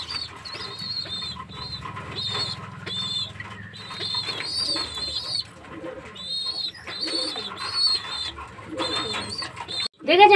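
Several pigeons cooing repeatedly as they crowd around water, a chorus of throaty rolling calls close by, with faint talk underneath at times.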